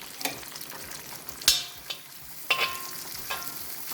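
Sliced peppers and onions sizzle steadily in a hot pan being prepared for shrimp spaghetti, with a few sharp scrapes and clicks of stirring scattered over the close frying hiss and no voices.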